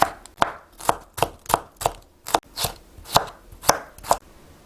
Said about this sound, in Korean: 자, 그 다음에 똑같이 채쳐주세요.